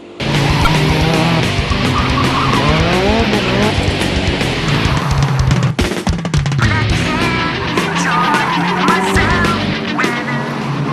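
Cars on a narrow, winding street in Kiyotaki, Osaka, with loud engines revving and tires squealing repeatedly as they pass close by, a dense continuous mix of engine roar and screeching with a sharp break midway.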